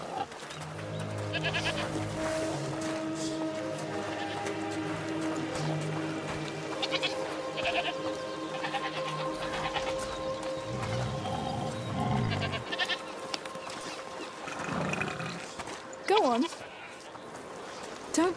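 Goats bleat several times at close range while people talk nearby, with steady background hum throughout.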